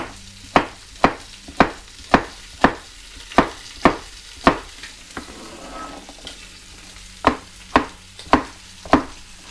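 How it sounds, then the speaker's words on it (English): A knife roughly chops vegetables for beef short rib tacos on a cutting board in a steady rhythm of sharp, close knocks, about two per second. The chopping pauses briefly midway, then resumes. "Just a rough chop."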